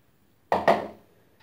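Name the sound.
washed watermelon rinds being added to a cooking pot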